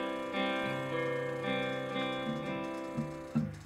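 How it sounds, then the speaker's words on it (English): Acoustic guitar playing a bass-chord accompaniment in 4/4 time: a low bass note followed by three strummed chords, repeated in a steady rhythm, close and clear with no voice. "So the total pattern would be bass note, chord, chord, chord."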